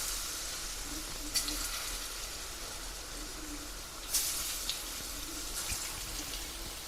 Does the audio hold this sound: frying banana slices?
yes